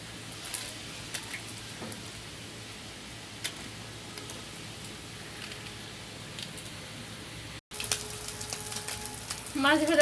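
Small fish fry in oil in a wok with a soft, continuous sizzle and scattered light ticks and pops, close but fairly quiet, before an abrupt cut to a brighter, louder crackle near the end.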